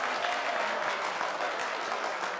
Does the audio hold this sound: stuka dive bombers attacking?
no